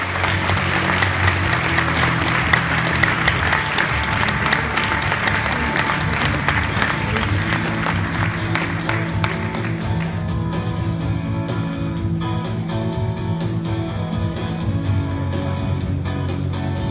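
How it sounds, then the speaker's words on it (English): Sustained audience applause from a crowd joining a stage event, steady and dense throughout, with a murmur of voices beneath and some music underneath toward the end. "Can you please give all 4 a big round of applause?"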